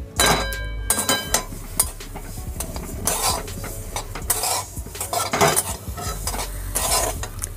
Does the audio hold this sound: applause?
no